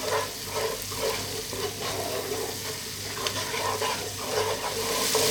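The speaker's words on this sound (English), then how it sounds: "Let's just cook that flour out 5 minutes. This time keep stirring," A spoon stirs flour around a pan over low heat, making a steady soft scraping with a faint sizzle underneath, close and continuous with no talking.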